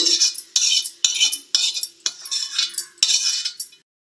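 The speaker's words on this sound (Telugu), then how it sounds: "ఈ సొరకాయ ముక్కలు తాలింపు అంతా ఒక బౌల్లోకి తీసుకోవాలండి." A spoon scrapes fried bottle gourd pieces with their tempering from a pan into a bowl: about eight sharp, evenly spaced metallic scoops, close and loud, then silence at the end.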